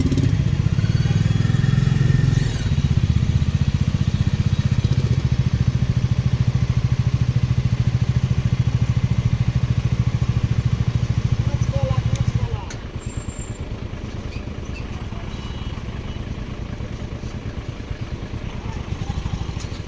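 A motorcycle engine on a traffic-jammed road near Mirik, a mid-pitched rumble running close and steady for about twelve seconds, then dropping to a quieter, rougher idle-like clatter.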